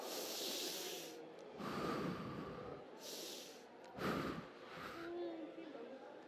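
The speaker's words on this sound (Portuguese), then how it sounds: "respira bem fundo" Several deep, slow breaths drawn in and pushed out in a group setting, broad airy rushes alternating with brief pauses, close and fairly loud, with a faint voice or two underneath.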